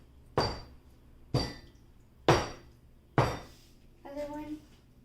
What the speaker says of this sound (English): Tapping it just releases all the air bubbles.